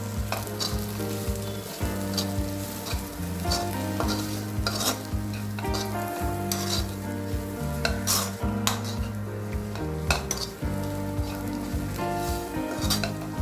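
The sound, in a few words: stirring frying tindora with chili powder and coriander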